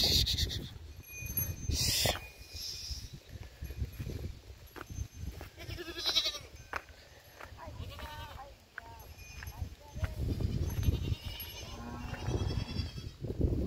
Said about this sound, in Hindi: बकरी देख ना भाई, आगे गई वो उधर।